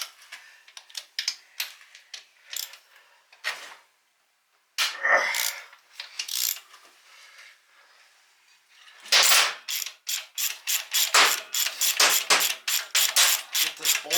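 A ratchet wrench works a bolt out of the engine of a 1978 Honda XR75 being stripped. Rapid clicking comes in uneven bursts with short pauses, ending in a long, fast run of ratchet clicks.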